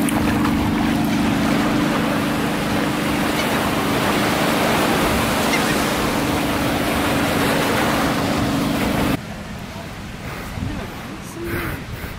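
Surf washes steadily onto the beach at Half Moon Cay, a broad constant rush with a low hum beneath it, then it drops abruptly to a quieter, softer wash near the end.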